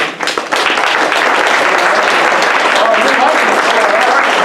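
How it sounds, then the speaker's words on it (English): Audience clapping at an improv comedy show starts with a brief dip, then settles into sustained, loud, even applause that fills the room, with a voice faintly audible beneath it. "So let's just go a little clap here"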